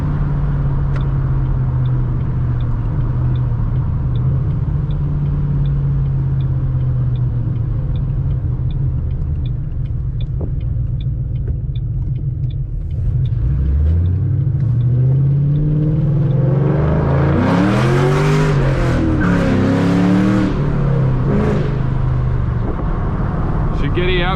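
A car fitted with BBK longtube headers idles with a deep, loud rumble, then revs hard and accelerates in first gear, its exhaust note rising and roaring close by, with no talking.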